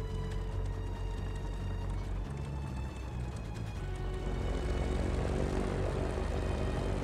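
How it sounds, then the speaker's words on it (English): Propeller airplane engine in the video game Just Cause 3, a steady droning hum with a low rumble that holds throughout, loud and close, with no talk. "I don't know why I can't just drive the plane."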